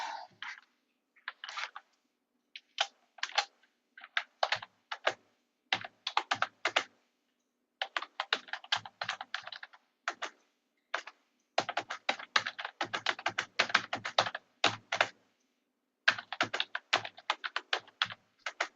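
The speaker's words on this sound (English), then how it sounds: "You're typing." Rapid keystrokes clatter on a computer keyboard in irregular bursts with brief pauses, close and fairly quiet.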